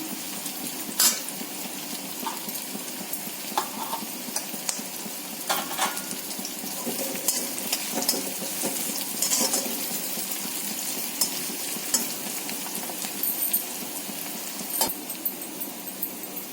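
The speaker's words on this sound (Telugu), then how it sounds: "ఉల్లిపాయలు వేగినాయండి." Sliced onions frying and being stirred in a pan for a Telugu fish curry, with a constant hiss of sizzling oil and occasional scrapes and clinks from the spoon, close and steady with no talking.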